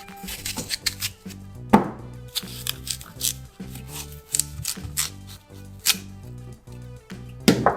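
A knife chops ginger and apple rapidly on a cutting board, steady crisp thuds in quick rhythm, close and alone without talking.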